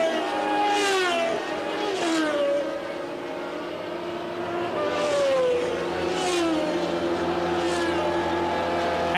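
Formula One cars at the 1982 Brazil Grand Prix pass one after another, engines wailing up and down in pitch with a Doppler sweep as each goes by, loud and steady, with a commentator talking over them.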